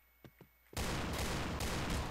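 Gunfire in the video game Point Blank: two sharp single shots, then a loud, dense, continuous burst of rapid fire right up close.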